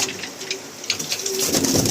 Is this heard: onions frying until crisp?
no